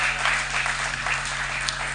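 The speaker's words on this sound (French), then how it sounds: "Applaudissez très fort pour lui." Soft applause from a church audience, a brief wash of clapping heard at a distance under a steady electrical hum.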